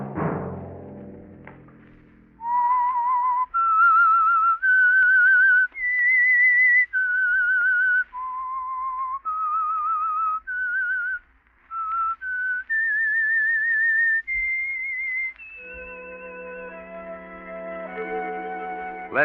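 After a brief musical sting, a clear solo whistle traces a slow, eerie tune of held notes, the theme of the radio drama The Whistler, then gives way to swelling orchestral chords.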